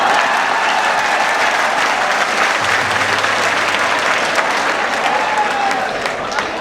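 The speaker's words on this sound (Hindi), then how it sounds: "तालियां बजाइए" Loud, dense applause from a large crowd at a mushaira poetry gathering in Deoband, a continuous roar of clapping that holds steady and eases slightly near the end.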